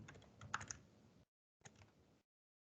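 Computer keyboard keys pressed while working in a spreadsheet, a quick cluster of close, crisp clicks, then silence and a second shorter burst of tapping, all quiet and without talk.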